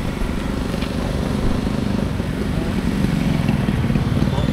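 A motorcycle engine idles and putters steadily nearby at a skate spot in Lamitan, a continuous low rumble with wind noise and faint background voices.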